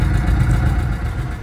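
A trawler boat's diesel engine idles and chugs steadily nearby as the boat pulls in to dock at Sadarghat on the river in Dhaka, a continuous low rumble with no talk.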